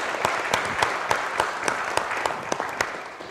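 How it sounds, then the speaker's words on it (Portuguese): An audience applauds with loud, continuous clapping, several sharp individual claps standing out at a fairly regular rhythm above the crowd's wash, fading slightly at the end. "aplausos!"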